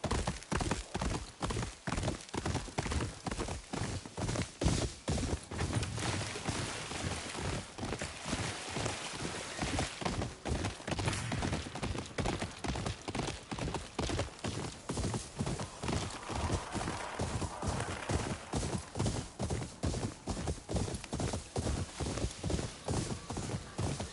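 Horse hooves clip-clop in a steady, rapid rhythm throughout, the mount galloping in the PS5 game Ghost of Yōtei, with a faint whinny in places and no talk over it.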